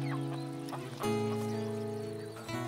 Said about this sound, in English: Or roosters, or chickens.